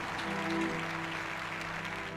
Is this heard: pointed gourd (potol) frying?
no